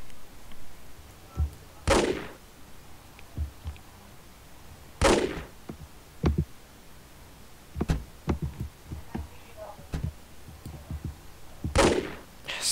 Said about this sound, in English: They're firing shots again.